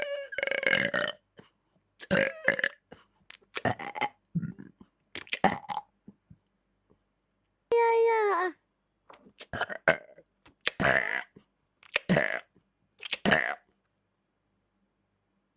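A female VTuber burps repeatedly through a compilation, with a series of close, loud belches of varying length separated by short pauses and a brief word spoken between them.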